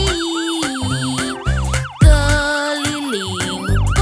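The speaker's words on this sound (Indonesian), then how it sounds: "Pemadam kebakaran berbunyi wii" Loud, fast-cycling cartoon fire truck siren wails rise and fall again and again over lively children's music, with a brief swell in intensity halfway through.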